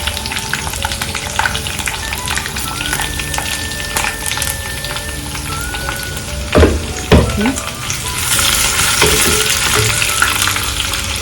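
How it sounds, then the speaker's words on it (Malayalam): Garlic and green chilies sizzle steadily in a hot pan for a Thrissur–Kottayam style sardine chili curry, with a couple of sharp stirring clatters partway through and the hiss swelling louder near the end. "ഇനി നമ്മുടെ വെളുത്തുള്ളി ഇട്ട് കൊടുക്കാം കൂടെ തന്നെ പച്ചമുളക് ഇട്ട് കൊടുക്കാം"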